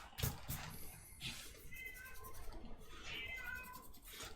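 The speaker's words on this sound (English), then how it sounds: "Just like the cat keeps whining." A cat meows and whines indoors in two drawn-out, rising calls, one early and one near the end, over a low background hum.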